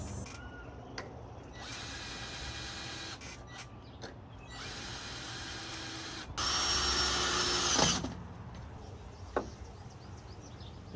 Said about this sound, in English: I got my special hinge drill thing.